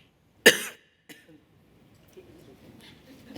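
A person gives one sharp, close cough near the start, followed by a fainter throat sound and then a quiet room.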